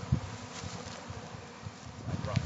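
Bees buzzing around a new hive on hiving day, a faint, steady hum with occasional nearer passes as individual insects fly close.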